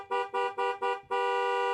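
A car horn in the video game Cabernet gives four short honks in quick succession, then one long sustained blast, loud and clear with no talk.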